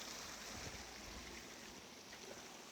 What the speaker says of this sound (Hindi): देखिए ऊपर से पानी ज़रूर बह रहा है बहुत तेज़ी से